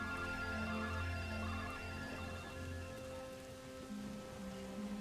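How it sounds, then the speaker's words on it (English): Steady hissing rain falls in the Lego Star Wars video game, a constant wash of downpour with sustained tonal background sounds underneath. "You cannot go out in that rain."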